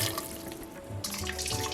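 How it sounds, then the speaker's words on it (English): Hot water poured from a tap or kettle into a pressure cooker while making Jamaican curry oxtail, a steady splashing stream that changes tone partway through, close and moderately loud with no talking. "I'm gonna add about 3 cups of water, and that's hot water that I'm adding."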